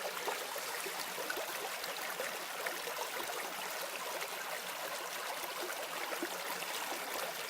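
Billy Creek streams steadily along a hiking trail on the Horsethief Spring loop, a close, unbroken rush and trickle of flowing water that holds an even level throughout with no talk.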